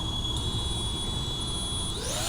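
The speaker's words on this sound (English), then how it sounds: "Engine starts." Motors on a DJI FPV drone spinning up, a steady high-pitched whine with tonal whirring that holds level and then starts to rise near the end, close and continuous.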